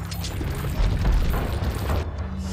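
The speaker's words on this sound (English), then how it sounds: "Might as well use the rifle on him." A rifle shot in Resident Evil 4 lands as a deep, heavy boom with a rumbling low-end tail, loud and close, filling the moment on its own.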